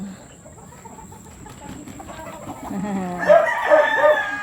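A pure black rooster crows loudly near the end, with clucking fowl and faint farmyard murmur before it; a steady high electrical whine runs underneath.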